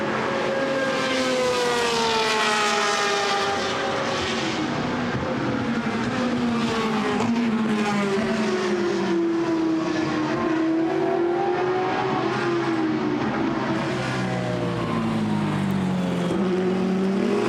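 GT sports cars race at the Misano circuit, their engines wailing continuously and shifting pitch as they pass, loud and sustained with no commentary audible.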